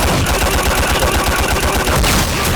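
Rapid gunfire from a custom moveset in a video game, a dense run of loud, regular shots in quick succession like an automatic burst, close and continuous.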